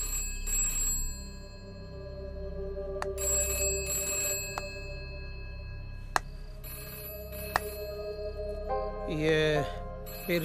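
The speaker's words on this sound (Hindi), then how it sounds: "ये फिर से घंटी बजी।" A telephone rings in repeated bursts with a steady electronic trill, near and moderately loud, under soft background music and a low hum.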